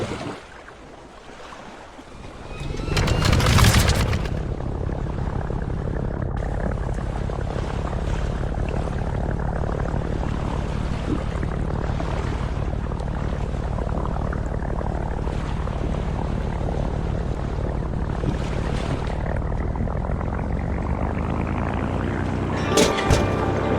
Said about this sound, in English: Hold the ignition button to start up the plane.